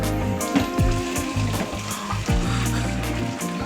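Water is drained off cooked food in a pan, a steady gushing pour with sizzling and splashing throughout and a few louder sloshes along the way.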